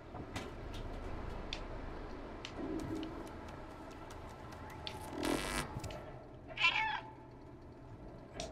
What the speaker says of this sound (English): Meowing is sort of like a mission marker as well.